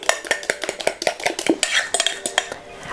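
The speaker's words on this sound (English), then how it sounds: "And also shortly whisking that in." Rapid clinking of a whisk against a bowl as ingredients are beaten into banana donut batter, a steady run of close, bright metallic taps with no talk.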